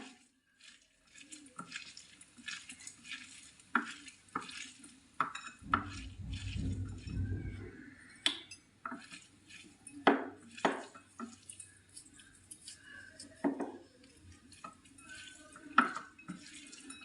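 A teaspoon clinks and scrapes against a bowl while ingredients are stirred together, a run of sharp irregular metallic taps close by, with a brief low rumble partway through.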